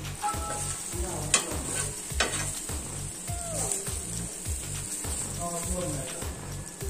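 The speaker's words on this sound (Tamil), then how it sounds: "ஃபிளிப் பண்ணிட்டு கொஞ்ச நேரம் இது நல்லா வேகட்டும்." A bread omelette fries in a pan with a steady, close sizzle and crackle. A rhythmic low pulsing thrums underneath, and a few faint chirps and clinks are scattered across the clip.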